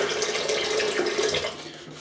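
Water runs steadily from a tap into shaving soap lather, a continuous close splashing hiss that lasts the whole moment without speech.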